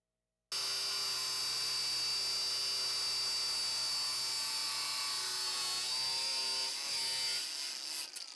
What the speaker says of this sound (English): then I'm going to pre-drill the hole for the whole bolt